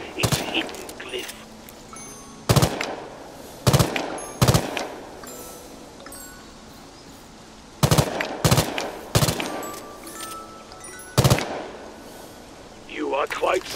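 Gunfire in the action game Hawked as shots hit a blue crystal and falling blossoms: loud, sharp single reports spaced irregularly over a low steady game ambience, with a brief chime-like shimmer near the end.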